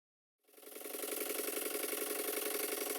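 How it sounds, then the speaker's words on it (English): An old steam pond launch engine in poor condition runs on compressed air, starting abruptly and settling into a steady, fast, close-up chuffing beat with a metallic rattle. "I just connected some compressed air to it and flicked the flywheel over top dead centre, and off it went."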